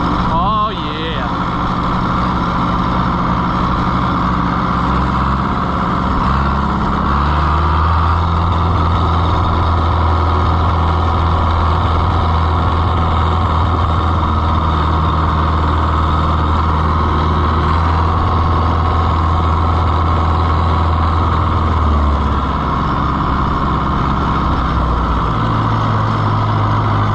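An Oliver 1365 tractor engine idles with a heavy low rumble, then is revved up through the foot throttle and held steady, loud and close, while people talk over it.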